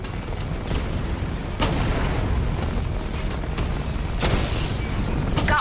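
Video game EMP blast detonating an armored tank: a heavy booming explosion followed by a second deep burst a few seconds later, over a constant rumbling bed of game noise.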